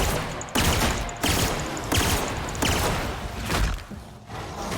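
A plasma gun fires in The Outer Worlds, a series of loud, punchy blasts with whooshing tails, about six shots spaced roughly every half second to a second.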